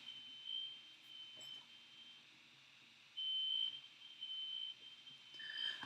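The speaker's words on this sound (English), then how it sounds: "A fire alarm is going off." A fire alarm going off somewhere beyond the apartment, faint high beeping tones that sound in short, irregular bursts against a low room hum.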